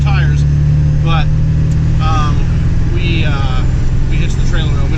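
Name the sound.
Ford F-250 Super Duty truck driving on new Nitto tires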